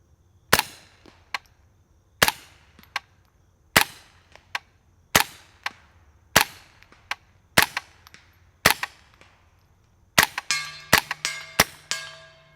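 Suppressed gunshots through a Hansohn Brothers MOD F4 suppressor with 8 baffles, sharp isolated cracks spaced about every one and a half seconds, some followed by faint metallic clangs of steel targets, ending in a quicker cluster of shots with a ringing hit.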